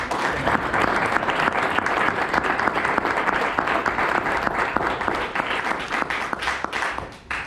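A community audience at a DeSoto mayoral candidate forum applauds steadily, dense clapping filling the room at a constant level for the whole stretch and tapering only slightly at the very end.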